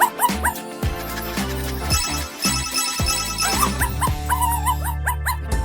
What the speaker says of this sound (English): Uh-oh, another dog!